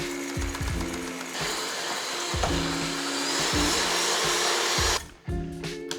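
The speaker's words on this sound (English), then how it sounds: "Now on low speed, we're slowly gonna put our sugar in." An electric mixer runs on low speed whipping frothy egg whites while sugar is added for a flourless chocolate cake, giving a steady near motor whir with rhythmic low knocks and a brief dip near the end.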